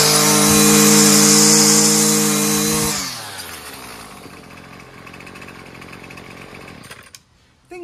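A gas weed trimmer, a Wild Badger 26cc or a Husqvarna 128LD 28cc, screams loudly at high revs, then drops abruptly and settles into a quieter, steady idle before cutting out near the end.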